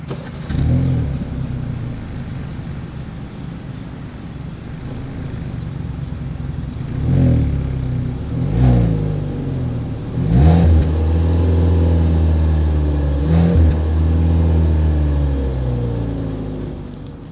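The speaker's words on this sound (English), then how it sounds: "As always, here is that exhaust clip." Exhaust of a 2023 Kia Soul at idle with several sharp revs spaced apart, each rising and falling back, followed by a longer sustained rev near the end; loud, close and with no talking.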